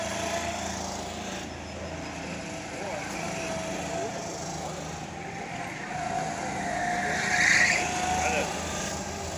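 Go-kart engines drone on a track while a kart brakes into a corner, giving one brief, sharp tire squeal near the end over the steady motor noise, with people talking throughout.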